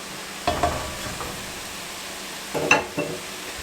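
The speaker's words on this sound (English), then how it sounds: "we're just going to let these spices toast up about a minute or so" Spices toasting in a pot for cowboy chili, stirred a few times: soft scraping strokes near the start and again toward the end over a faint steady sizzle, no talking.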